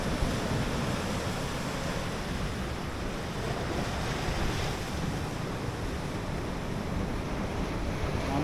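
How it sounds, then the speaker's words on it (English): Rough sea surf churns continuously against a rocky shoreline on an early-morning fishing spot, a loud, broad roar of breaking waves mixed with gusting wind buffeting the microphone, with no one talking. "the water get rough here now."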